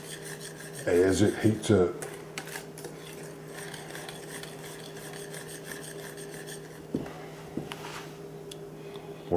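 Hot fudge melting in a pot is stirred with a few quick, rasping scrapes near the start, then a softer, steady low rubbing continues under a quiet voice.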